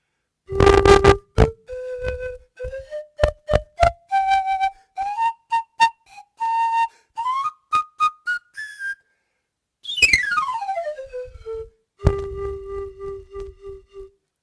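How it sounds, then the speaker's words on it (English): Peruvian pan pipes are played solo: a run of short, breathy whistled notes stepping up and down in pitch, then a long falling glide and a sustained closing tone, loud and close with no talking. "Peruvian pipes, pan pipes."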